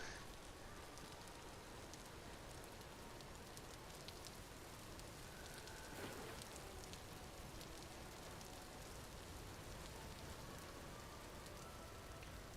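Rain falling steadily in the survival game Vintage Story, a dense, even hiss of drops on surfaces that continues unbroken throughout, soft and fairly distant, with no voices.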